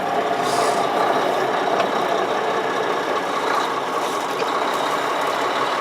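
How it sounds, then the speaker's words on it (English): A truck engine idles in a steady, loud rumble as the air brake compressor builds pressure, a continuous mechanical drone with faint rasping, close by and with no voices. "I'm going to start the engine, make sure the compressor builds up to about 120 and cuts off"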